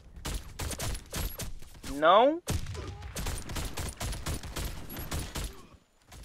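Rapid bursts of USAS-12 automatic shotgun fire in the online shooter Warface, loud and close with short pauses between volleys and a brief tonal game effect partway through, while a player speaks briefly.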